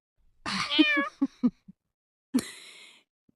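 A cat meows several times in quick succession, a long drawn-out call followed by shorter chirpy meows, then one more meow after a pause; close and clear.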